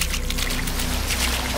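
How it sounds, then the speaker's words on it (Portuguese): Water pours steadily in an animated cartoon, a continuous close splashing stream over a low hum, with no talking. "Ah, essa água é tão refrescante!"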